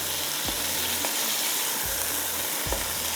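Eggplant fries in a pan for a baingan kabab recipe, giving a loud, continuous dense sizzle with a few soft low thumps of stirring.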